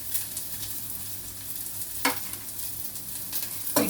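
Onions, green peas, carrot, sweet corn, tomato and ginger sizzle steadily in a pan, with a couple of sharper scraping stirs breaking through the constant frying hiss.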